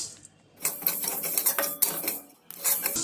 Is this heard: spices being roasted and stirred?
yes